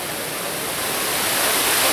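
Delta fountain geyser at Gaylord Opryland, one of 106 fountains, shooting water 85 feet into the air indoors: a steady, loud, broadband rush of falling water that holds constant throughout.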